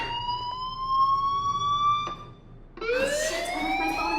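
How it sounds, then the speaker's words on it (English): A wailing fire alarm in the video game Life is Strange sounds loud and continuous, its rising electronic siren tone sweeping upward, briefly dipping, then restarting with a fresh rising wail. "Hey, do you hear that fire alarm?"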